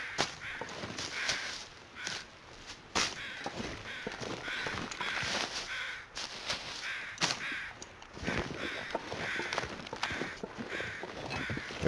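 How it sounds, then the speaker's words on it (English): Crows cawing in The Long Dark, repeated harsh calls in irregular bursts over a windy outdoor backdrop, fairly close and loud with no speech. "There are the birds."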